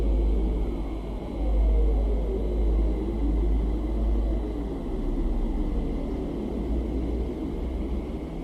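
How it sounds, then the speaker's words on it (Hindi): A deep, steady rumble with faint wavering tones stands as a recording of planet Earth, thought to come from its oceans or restless atmosphere; it is loud and continuous throughout, with no voices. "पृथ्वी की यह आवाज इसके समुद्र या फिर हलचल वाले वातावरण की वजह से हो सकती है"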